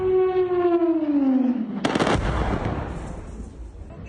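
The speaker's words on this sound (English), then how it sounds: "An explosion heard across the Venezuelan capital of Caracas during the attack" Explosions during an overnight military strike on Caracas, Venezuela: a falling, siren-like whistling tone slides down for about two seconds, then a loud broadband blast bursts and rumbles away into a lingering echo.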